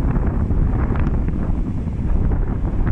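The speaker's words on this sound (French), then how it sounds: "là il y a du vent et qu'il y a la pluie qui risque de tomber" Strong wind buffets a microphone outdoors on a blustery day, a loud, continuous low roar with gusty swells and no voices.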